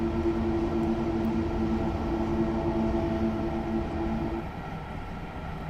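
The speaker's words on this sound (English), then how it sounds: "Just going to let the train coast." A TGV high-speed train coasting on the line between Avignon and Marseille makes a steady, loud low rumble with a sustained tonal hum that drops off slightly near the end, with no voices.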